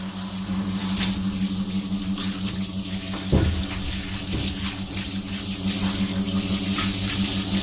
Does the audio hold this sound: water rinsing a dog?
yes